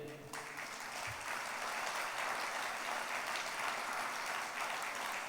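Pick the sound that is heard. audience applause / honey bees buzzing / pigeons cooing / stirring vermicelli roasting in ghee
audience applause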